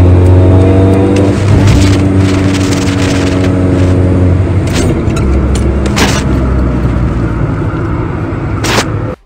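Steady, loud car engine and road drone from inside a vehicle driving on a highway, with other cars rushing past in brief swells; no talking.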